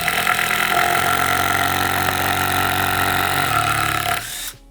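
A worn, well-used Hitachi impact drill runs steadily and loudly at close range for about four seconds, its motor whine holding even before winding down abruptly at the end.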